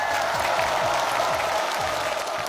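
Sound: studio audience applause and cheering

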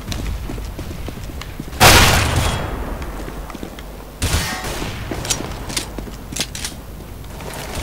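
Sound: grenade explosion in video game Counter-Strike: Global Offensive

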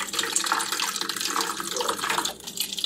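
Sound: water filling a large daily water bottle

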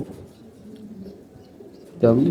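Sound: racing pigeons cooing in loft

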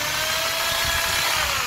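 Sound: electric drill running on a power inverter from a car battery

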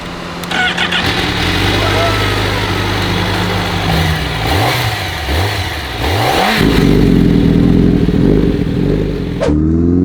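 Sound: Honda CBR1000RR-R Fireblade SP motorcycle engine starting and idling

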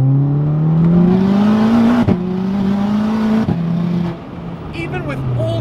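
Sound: Stage 4 big turbo VW Mk6 Golf R accelerating in second gear

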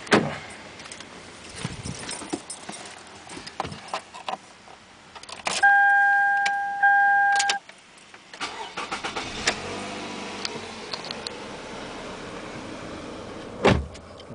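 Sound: car engine starting up

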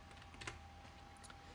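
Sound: typing on a computer keyboard

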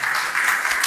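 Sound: audience applause

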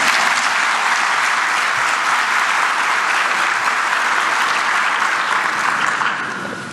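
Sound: audience applause at a seminar

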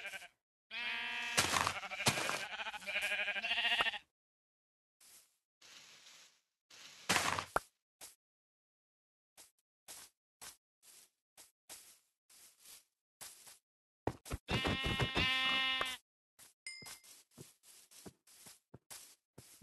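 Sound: sheep bleating in Minecraft video game

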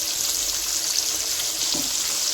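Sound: paneer frying in pan

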